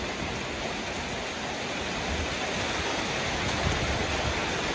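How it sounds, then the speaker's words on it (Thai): Heavy rain pours down at a Hmong village home, a dense, even hiss that holds steady and close for the whole stretch with no voices over it. "โอ้บรรยากาศฝนตก"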